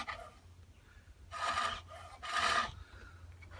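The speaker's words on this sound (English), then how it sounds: "now we're going to go in with the tip of a skew to make these V cuts" Two short, rasping wood cuts from the tip of a skew chisel scoring V grooves into a turned garden dibber on a pole lathe, separated by a brief pause over a quiet background.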